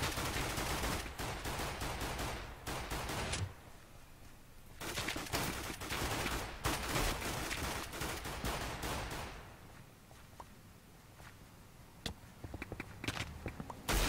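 Sniper rifle fire in a video game: sharp, loud shots in bursts, some rapid and overlapping, with footstep-like clatter between them and quieter gaps toward the end.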